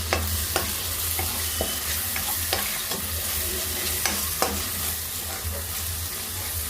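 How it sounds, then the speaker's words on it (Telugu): Spoon stirring tomatoes into onions frying in a pan, a steady sizzle and bubble with repeated light scrapes and clinks against the pan, close and continuous, no talk. "ఇప్పుడు ఒకసారి కలిపేసుకున్నాం"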